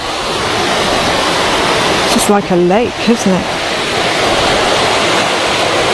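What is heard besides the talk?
rain falling on river above weir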